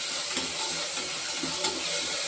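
Onions with curry leaves sauté in a pan for a Tamil mochai kuzhambu, a steady close sizzle with faint scraping stirs and no voices.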